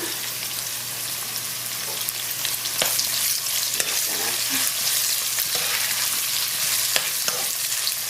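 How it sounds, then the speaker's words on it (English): Mushrooms frying in a pan with chopped onions, a steady close sizzle and crackle throughout with occasional stirring scrapes and pops, no talking. "Let that cook for a few seconds, and then I'm going to put the mushrooms."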